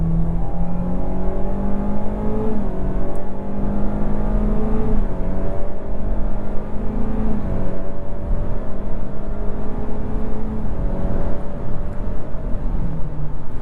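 A 2025 Kia K4 EX sedan in sport mode pulls hard through several gear shifts, its engine note climbing and dropping in steady steps under constant road and cabin drone.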